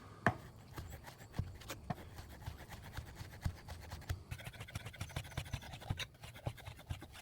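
A knife dices bacon strips on a cutting board in steady, rapid strokes, each chop a short near tap over a faint scraping, continuing evenly with no talk.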